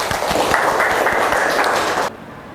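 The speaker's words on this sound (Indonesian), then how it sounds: "Tepuk tangan." A classroom of students claps together for about two seconds, a dense, lively burst of applause that stops abruptly and leaves faint room noise.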